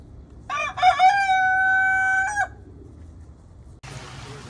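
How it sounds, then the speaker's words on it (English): A single rooster crows once nearby, loud and clear, with a rising call that holds steady and then breaks off, followed by quiet outdoor background and a brief burst of noise at the end. "Come on, rooster. Crow again."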